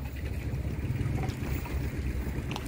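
A motorboat runs along a river in Đồng Tháp, its low, steady engine drone continuous and fairly close throughout, with no talking.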